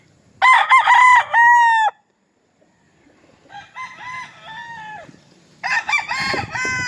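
A brassback gamefowl rooster crows loudly nearby, one full crow followed by a pause, then a fainter second crow and another loud crow starting at the end.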